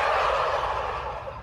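Dense, continuous gobbling from a large flock of around 500 male turkeys in an Iranian turkey barn, a loud overlapping chorus that fills the space with no pauses.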